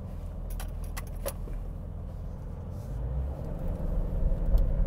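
A car on the road after its MAF airmass filter setting was doubled in the tune, giving a steady low engine and road rumble from inside the cabin that swells slightly toward the end, with some faint rattling.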